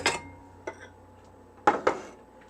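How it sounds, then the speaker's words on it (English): A bowl is taken out in a kitchen with a few quiet, close clinks and knocks of dishware, scattered irregular taps with pauses between. "Now just let me get a bowl out here for our butter."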